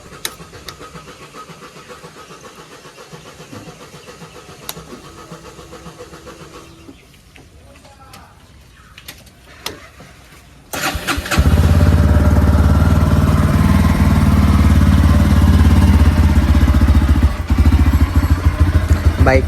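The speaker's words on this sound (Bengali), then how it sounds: "বাইক নামানো হয়ে গেছে, এবারে বাইকটাকে কোল্ড স্টার্ট করি।" A Bajaj Dominar motorcycle is cold started after quiet handling noises and a few clicks, then the engine catches and settles into a loud, steady, close idle.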